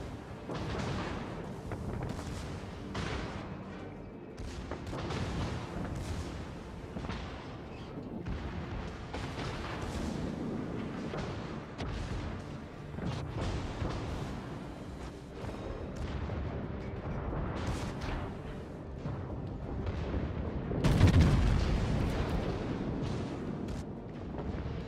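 Naval artillery fire from battleship guns in a World of Warships game session, a steady roll of deep booms and bursts over a continuous rumbling battle bed, with one louder blast near the end.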